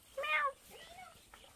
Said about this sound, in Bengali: এখানে একটা ছোট্ট ম্যাও, তাই না ম্যাও?